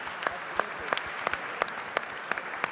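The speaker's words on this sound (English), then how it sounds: "So I think we need to give Jason and his team a round of applause." Applause from a conference audience at a startup investor event, heard as a thin, steady patter of scattered claps with a few sharper individual claps standing out, moderately quiet and without voices.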